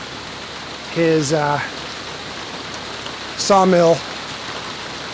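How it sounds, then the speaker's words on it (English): Steady rain from a surprise thunderstorm hisses evenly on a sawmill shelter on a homestead, close and constant, while a person speaks briefly twice over it. "Waiting for the rain to pass."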